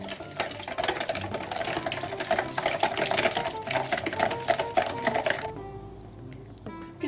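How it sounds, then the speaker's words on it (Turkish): A hand whisk beating eggs with granulated sugar in a bowl, a fast steady clatter of rapid strokes for about five seconds before stopping, close and fairly loud. "Evet yumurtamızı ve toz şekerimizi güzelce çırpalım."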